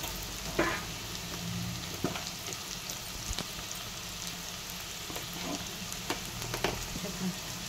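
Dondakaya (ivy gourd) fries with spices in a pan, giving a soft, continuous sizzle with light, irregular taps and scrapes of a spoon stirring throughout. No one talks.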